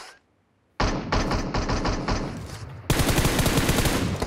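Gunfire in the mobile battle royale game PUBG Mobile starts with a burst of rapid automatic shots. A louder, denser stream of shots follows after a short break, all close and sharp.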